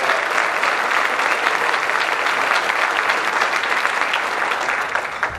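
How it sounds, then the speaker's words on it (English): A crowd applauding steadily and loudly, dense clapping that holds for several seconds before starting to fade. "I want him to stand up and get a round of applause"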